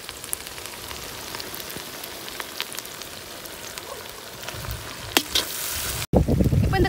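Hakka noodles with vegetables and vinegar frying in a pan, a steady soft sizzle throughout that swells near the end into a louder, closer burst of crackling as boiled noodles are tossed in.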